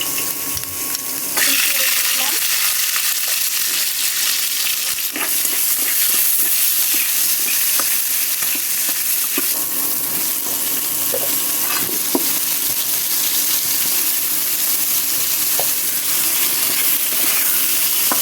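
Onion and potato frying in a pan give a steady, loud, hissing sizzle that lasts throughout, with occasional clinks and scrapes of stirring.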